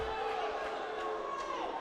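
Crowd noise in a gym at a high school basketball game, a sustained, fairly faint murmur of many voices with a disgruntled tone, rising briefly in a few places.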